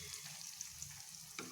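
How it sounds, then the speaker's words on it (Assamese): Pitha cakes sizzle softly in oil in a pan over a low flame, giving a steady, quiet frying hiss with a small crackle near the end. "ল' ফ্লেমতে ভাজি আছোঁ"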